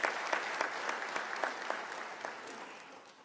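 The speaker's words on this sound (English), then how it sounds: "I think we deserve a round of applause." Steady applause from a large audience at a university autumn graduation ceremony, a continuous wash of clapping that stays fairly quiet and even, slowly tapering toward the end.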